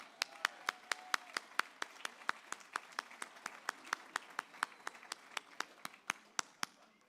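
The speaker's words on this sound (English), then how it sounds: "Now we can clap." Even, regular claps ring out about three per second at a medical school white coat ceremony, close and crisp, keeping a steady rhythm for several seconds with no voices over them.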